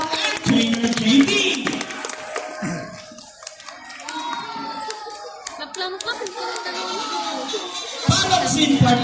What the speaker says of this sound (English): Now, the round of applause for Chaco and Buddy, with Trainer Rochelle and Trainer JB.